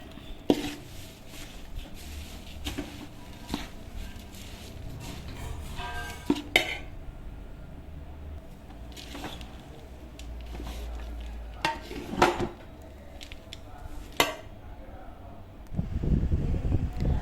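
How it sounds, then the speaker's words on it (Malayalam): A spoon stirs beaten rice (aval) into a sweet mixture in a pan, making repeated scrapes and light clinks against the metal at an uneven rhythm, close up, with no talking. "അവൽ കുറേശ്ശെ ഇട്ട് നന്നായിട്ട് മിക്സ് ചെയ്തെടുക്കണം"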